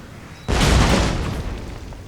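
A cannon shot hits in Empire: Total War, a single loud close boom with a sharp onset that rumbles and fades over a second or so.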